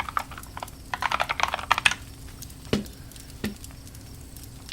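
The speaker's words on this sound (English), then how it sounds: "Alright, it's keyboards." Keys clatter on an Ergodox split computer keyboard in a quick burst of rapid, close keystrokes, then a few isolated sharper taps spaced out afterward.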